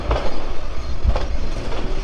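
The Lalmoni Express pulls out toward Dhaka, with a loud steady rumble of the train and rhythmic wheel clatter recorded from near the front of the train, no voices.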